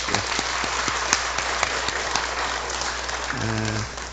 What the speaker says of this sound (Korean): 우리 수고하신 우리 여전도회 임원들에게 박수 한번 하겠습니다.